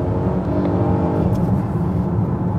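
A new Volvo XC90 revs and pulls forward steadily, a continuous close-up engine drone that rises slightly in pitch with no voices.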